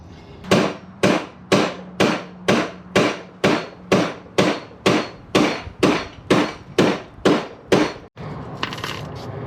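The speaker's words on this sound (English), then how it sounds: "We're going to hit it with a hammer about 87 times, and it's going to fucking just mold right in here." Steady, evenly spaced hammer blows on a metal exhaust header of a 1967 Chevy Impala, about fifteen loud ringing strikes in a row, close up, then stopping.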